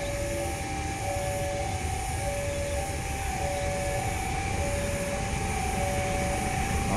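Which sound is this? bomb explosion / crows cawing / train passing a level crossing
train passing a level crossing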